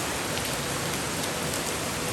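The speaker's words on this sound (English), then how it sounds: "It's a real gentle rain today. It's not pouring." Gentle rain falling steadily in Bali, a soft even hiss of drops on surfaces without thunder or voices, close and continuous.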